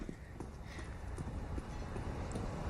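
Footsteps in Counter-Strike during a professional IEM Katowice Major match, a quick run of rhythmic clicking steps repeating steadily over a constant busy game ambience.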